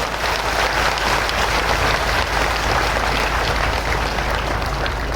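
A large gathering at a spiritual festival gives a steady, thunderous round of applause, dense continuous clapping like heavy rain, sustained evenly throughout with no voices over it.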